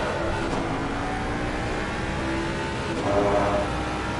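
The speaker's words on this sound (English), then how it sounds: "Let's just listen to that engine." A Ford Mustang race car engine drones steadily at high revs on the Kyalami circuit, a continuous buzzing roar with a slight swell near the end, no voices.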